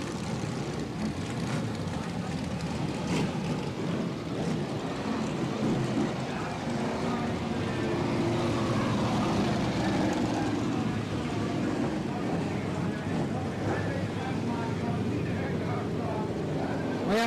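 A pack of thirty BriSCA F1 stock cars races around a long oval track in 1998, engines roaring together in a continuous loud drone that rises and falls as the field passes, with commentary running over it.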